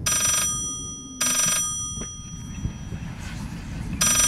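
A telephone rings in the video game Layers of Fear, loud bright bursts repeating with gaps between them, over a low murmuring ambient background.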